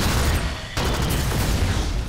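Dense, rapid gunfire in the top-down co-op shooter Alien Swarm: Reactive Drop, a continuous loud fusillade of overlapping shots with a brief dip in intensity before resuming.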